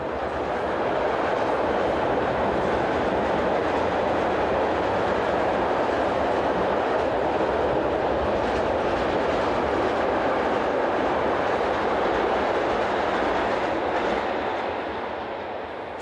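Class 185 locomotive hauling a container train south through Eichenberg at night, a steady loud rumble and wheel noise that holds for most of the stretch before easing slightly at the end.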